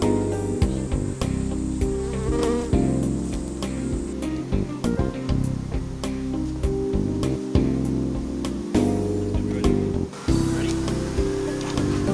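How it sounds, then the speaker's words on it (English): Dense, droning buzz of many honey bees swarming around an open hive being moved into production boxes, loud and continuous, with scattered clicks and knocks from handling the hive frames. "It is surprising just how many bees you can fit in a 5-frame super."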